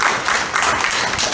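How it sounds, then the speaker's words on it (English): Audience applause at a community candidate forum, a dense, steady patter of many hands clapping close by throughout. "let's give each one of these a round of applause."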